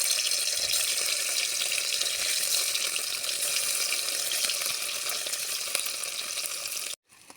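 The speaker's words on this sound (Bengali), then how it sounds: "ডিমগুলো এভাবে লালচে করে তারপরে ভেজে উঠে রাখবো" Sliced boiled eggs frying in oil in a wok, a loud continuous hissing sizzle that gradually eases before cutting off abruptly near the end.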